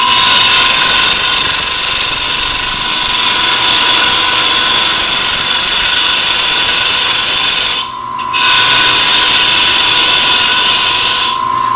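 Wood lathe scraper cutting end grain with heavy tool vibration, producing a loud, sustained screeching chatter with a steady high whine, briefly dropping off once near the end before resuming.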